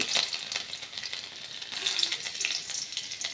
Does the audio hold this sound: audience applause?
no